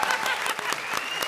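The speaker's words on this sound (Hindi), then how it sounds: "जोरदार तालियां कृष्णा और सिद्धार्थ के लिए" Studio audience applauding on a comedy show, a dense, steady burst of clapping from a crowd, loud and continuous through the short stretch.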